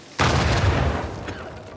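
A sudden heavy boom bursts in and rumbles on with a dense, roaring tail of low-end noise, loud and close, in the video game Uncharted 4: A Thief's End.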